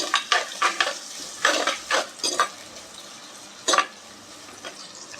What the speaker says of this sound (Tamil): நல்ல வெங்காயம் பொன்னிறமாக வர அளவு நல்லா வதக்கிக்கலாம்